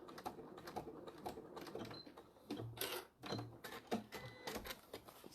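A sewing machine runs a back stitch along the end of a small fabric bag, giving bursts of rapid mechanical clatter with brief pauses between runs, fairly quiet and near.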